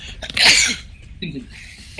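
A single sharp human sneeze, close and loud, during a tabletop role-playing game session, followed by a short breath and faint voices.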